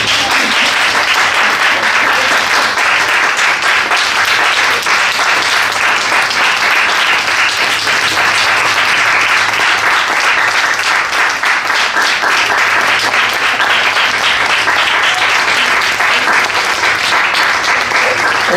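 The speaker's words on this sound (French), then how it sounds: "Vous pouvez l'applaudir." An audience at an in-store talk at a Fnac shop in Paris gives sustained, loud, dense applause that continues evenly for nearly twenty seconds.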